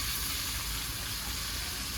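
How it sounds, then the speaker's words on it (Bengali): Pomfret fish frying in hot oil in a pan for a village-style dish, giving a steady, even sizzling hiss that holds throughout without any voices. "মাছ ভাজা হয়ে গেছে"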